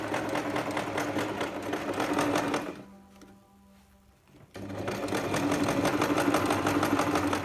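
Sewing machine stitching a fabric mask, a loud close rhythmic whir that runs steadily, stops for about two seconds of near silence, then starts again at the same pace.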